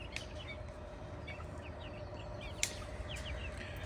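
Chickens cluck and chirp softly in a yard over a steady low hum, with a few sharper calls poking through.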